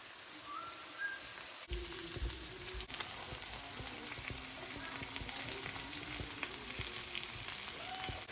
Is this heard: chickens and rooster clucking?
no